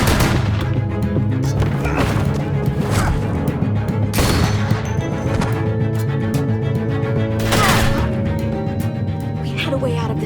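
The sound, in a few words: gunfire in The Walking Dead Telltale video game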